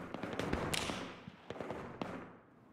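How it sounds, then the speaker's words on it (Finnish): Gunfire in the tactical shooter game Battlefield 3 Reality Mod: several sharp, fairly close shots in an irregular burst with reverberant tails, fading out at the end. "Ammuin polveen sitä."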